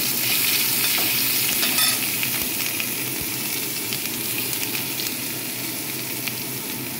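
Ginger paste fries with cloves, cardamom and cinnamon in a pan, crackling and hissing steadily while a spoon stirs through it, close and alone.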